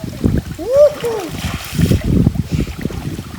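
Water splashes in short bursts as people bathe in a river with a strong current, and excited voices talk over the sloshing.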